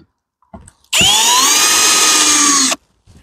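A power drill drives screws into insulation on a beehive being readied for winter; a single loud, steady whine lasts nearly two seconds, with brief handling noises before and after.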